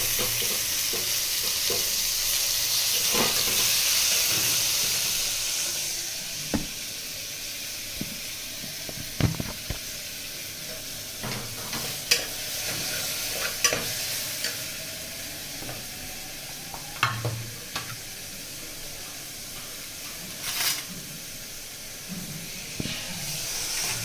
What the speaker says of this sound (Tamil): இப்போ கொஞ்சமாக உப்பு போட்டு நான் நல்லா வதக்கிக்கிறேன்.